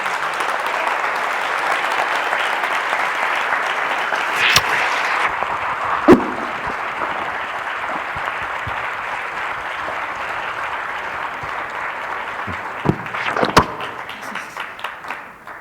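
An audience applauds steadily for a guest speaker at a coaching talk, dense clapping that carries on for the whole stretch and tapers slightly at the close.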